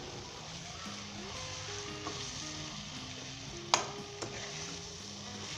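Cabbage and carrot sabzi with fresh coriander sizzles steadily in a pan while a spoon stirs it, with a sharp clink against the pan partway through; quiet and close.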